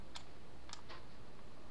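A few light keystrokes tapped on a computer keyboard, sparse and quiet clicks spaced apart over a soft steady background hiss.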